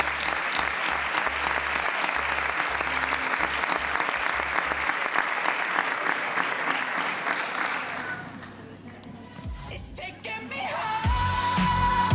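Audience applause at a vocational-school graduation ceremony, a steady crowd clapping that holds strong for about eight seconds before thinning out, followed by scattered room noise.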